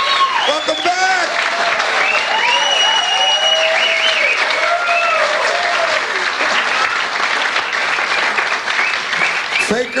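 A television studio audience applauds loudly and continuously for about ten seconds, dense clapping with some cheers and whoops, as a talk show host's voice cuts in over the crowd.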